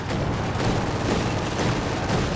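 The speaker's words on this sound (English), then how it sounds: "LMG pops on the Grenadiers." A light machine gun fires a dense, continuous stream at Grenadiers in Company of Heroes 2, the rapid shots blending with other battle noise into a loud, unbroken roar.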